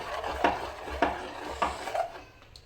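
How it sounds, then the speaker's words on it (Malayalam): Spoon stirring a bread pudding custard mixture in a pan, four evenly spaced scraping strokes against the metal, close and soft, with no talk. "പിന്നെ ഇതിങ്ങനെ വറ്റുന്നത് വരെ ഇങ്ങനെ ഇളക്കി കൊടുക്കണം കേട്ടോ."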